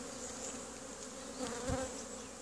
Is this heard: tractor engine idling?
no